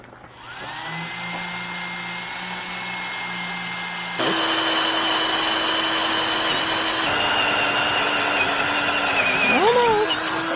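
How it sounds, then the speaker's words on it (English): A power drill whirs steadily for several seconds, drilling holes while installing a Hensley hitch, pitch jumping partway through as it bites in, ending with a brief spin-down. "We're gonna drill holes."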